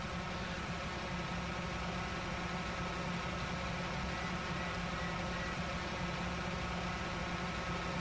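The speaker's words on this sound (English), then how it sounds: "noise of the stinking diesel engine" A tractor diesel engine runs steadily in the video game Farming Simulator 19, giving a constant low droning hum at moderate distance with no talk.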